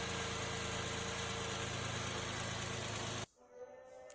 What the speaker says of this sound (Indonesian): Lalu dengarkan suara mesinnya.